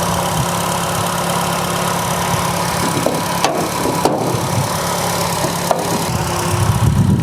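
A Nissan Versa economy car with a manual transmission idles at close range, giving a steady, even engine hum with a few faint clicks and taps and no voices.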